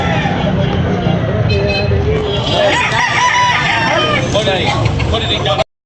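A nearby rooster crows loudly in long rising and falling calls, with people talking over it amid busy market-like background noise.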